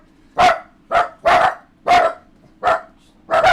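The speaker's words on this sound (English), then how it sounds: "the dogs are going crazy on me" Six loud, sharp dog barks arrive in an irregular series with short pauses between them, sounding close by against a quiet indoor background.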